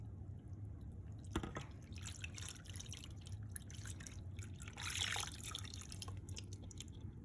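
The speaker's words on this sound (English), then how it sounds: "now we're gonna take the sauce. You see how runny it is? And we're gonna pour it over" Runny tomato sauce poured from a container over meatballs in a casserole dish, a soft, steady liquid trickle and drip with a brief, louder splashing burst near the end.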